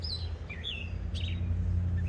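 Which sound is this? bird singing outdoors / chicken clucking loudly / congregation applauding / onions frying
bird singing outdoors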